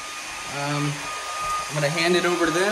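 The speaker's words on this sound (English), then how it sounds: "I'm currently hair drying this corner over here to the hair dryer." A hair dryer runs steadily while drying a wall corner during a bedroom makeover, a continuous whir at close range with a person talking over it throughout.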